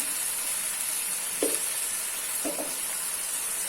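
Ghee, butter and oil sizzle in a karahi for a Lahori mutton karahi, a steady close frying hiss throughout with a couple of brief louder crackles, no talking.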